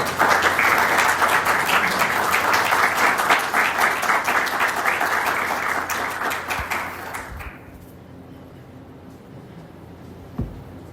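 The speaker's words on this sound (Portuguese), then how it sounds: "Uma salva de palmas ao nosso bispo." An audience applauds the bishop at a Catholic lecture event, dense sustained clapping that carries loudly for several seconds, then stops abruptly, leaving a quiet room with a few faint knocks.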